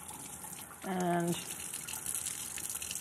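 Cold tap water runs steadily as a raw bird is rinsed in a kitchen, a soft continuous splashing stream with a voice speaking briefly over it.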